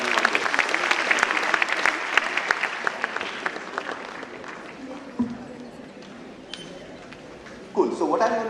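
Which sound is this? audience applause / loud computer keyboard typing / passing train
audience applause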